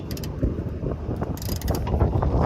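A socket wrench on the 15mm oil drain bolt of a 2013 Ford F-150 ratchets and clunks in a steady mechanical rattle, close and fairly loud, with some wind noise and no talking.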